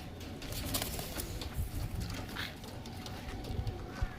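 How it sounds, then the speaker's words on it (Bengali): Kaldum pigeons released in a loft give soft, low cooing and rustling wing flutters under a steady rushing background, faint and fairly distant, with no clear speech. "পায়রাগুলো আমার ধরা হয় না, তো যার জন্য একটু ছটফট করছে"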